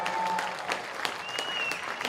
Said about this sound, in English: Let's give a big round of applause to Saskatchewan,